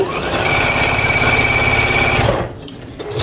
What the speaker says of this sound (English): I'm just piecing 2 of the varying widths of strips together, And I'm just going to sew those together